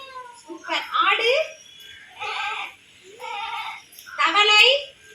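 A child mimics a goat's bleat with a series of four short, quavering cries, close to the listener and separated by brief gaps.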